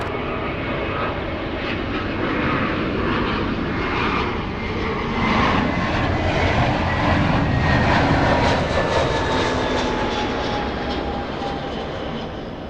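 An airliner arriving at LAX on a flight from Boston gives a steady, loud jet roar with high whining engine tones that slide slowly downward, swelling a little past the midpoint, with no talk.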